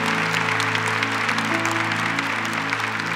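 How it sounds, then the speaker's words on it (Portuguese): A church congregation claps together in steady, dense applause after a Scripture reading at Mass, with a sustained organ or keyboard chord held underneath. "Aplaudamos a palavra de Deus."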